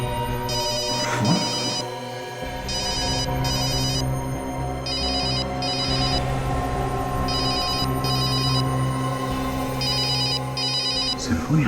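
A cellphone rings in a repeating electronic pattern of short chirping bursts, cycling several times over a low background hum.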